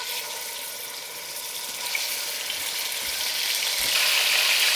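Cut-up chuck roast browns in a fatty pan for birria, a dense continuous sizzle and crackle that grows slightly louder toward the end, close and steady with no talk.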